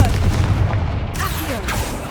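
Confringo spell explosion in Hogwarts Legacy, a loud, sustained booming blast with rumbling low end and crackling debris throughout, dense and close, with no clear pause.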